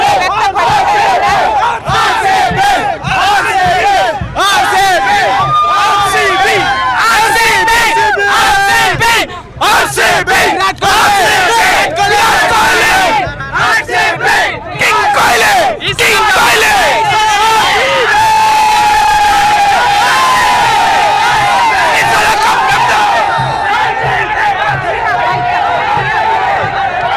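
A large crowd of IPL cricket fans cheers and shouts loudly and continuously, a dense roar of whoops and chants close by with overlapping voices throughout.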